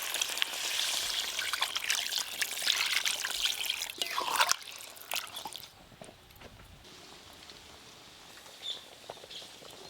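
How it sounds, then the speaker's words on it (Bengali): Water is poured into a pan of sizzling meat curry, with a splashing, hissing rush that fades into softer bubbling and crackling as the pour stops. "এবার জল দেব, জল।"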